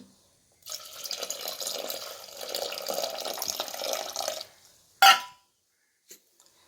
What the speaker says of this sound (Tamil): புளிக்கரைசல்